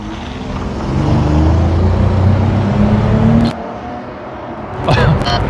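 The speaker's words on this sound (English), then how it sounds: "Go ahead and give her some gas, Corey." A Dodge Charger V6 engine, run after a throttle body cleaning, is revved hard for a few seconds, rising to a loud sustained drone before dropping back to idle, then a brief blip near the end.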